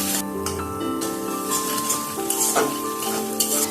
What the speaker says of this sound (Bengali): এগুলোকেও তেলে ভালো করে কষিয়ে নেব।